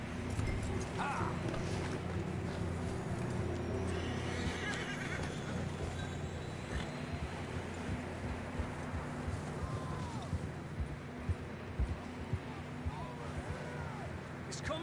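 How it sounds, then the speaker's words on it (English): Horses whinny repeatedly and hooves clip-clop over wind and rumbling ambience in the Western video game Red Dead Redemption, with a voice calling out now and then above the animals. "I don't think we can go much further on the horses."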